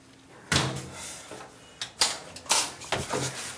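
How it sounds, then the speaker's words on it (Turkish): A door being opened, heard as several sharp knocks and rattling clunks of the handle and frame at moderate distance, spaced over a few seconds with no talking. "bak açtık işte kapıyı"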